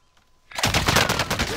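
Machine gunfire in the video game Call of Duty: Modern Warfare bursts in loud and close after a brief near-silence, a dense rattling volley of rapid shots that continues steadily to the end.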